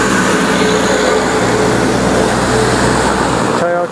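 A loud, steady roar of a tricked-out Toyota Hilux truck passing close on a national highway in the Philippines holds constant, then fades out abruptly at the end.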